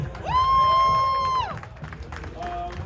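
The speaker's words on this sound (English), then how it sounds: "Big round of applause for that, guys." A crowd at a Christian Koenigsegg appearance at a car event cheers: a loud, sustained whooping cry rises over the audience, then clapping and crowd noise continue more softly underneath.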